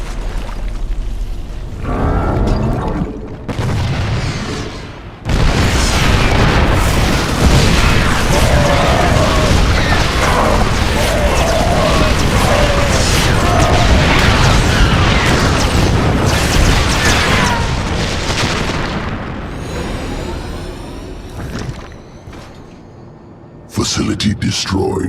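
Facility being destroyed in a StarCraft II Zerg campaign mission: a loud sustained rumble of blasts and debris lasting about fifteen seconds, bracketed by short bursts and tapering off near the end.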